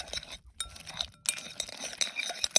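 A utensil clinks and scrapes against a pan or bowl while honey walnut shrimp are tossed in sauce at a desert campsite, with quick irregular taps close by and no talking.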